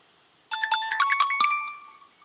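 A mobile phone ringtone suddenly starts playing during a live show, a bright, close melodic electronic chime of quick notes that rings for a couple of seconds before fading out, with no talking over it.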